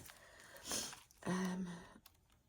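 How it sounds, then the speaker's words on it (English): Two close, quiet sniffs by a person, each a short breathy intake, the second followed by a brief voiced hum. "Sorry about the sniffing."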